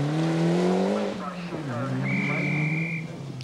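A rally car on a stage of the 1993 Network Q RAC Rally, its engine note rising and falling in steady harmonics with a pitch drop mid-pass, loud and close, ending in a high whine.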